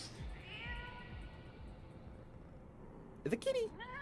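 A cat meows twice in a cutscene from the Final Fantasy XIV game, short, clear calls heard close after a stretch of quiet background music.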